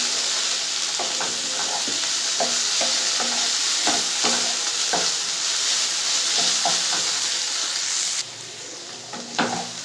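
A loud, steady sizzle of amaranth greens (note shak) frying in a hot pan, with regular scraping strokes of a spatula stirring throughout; the hiss drops near the end.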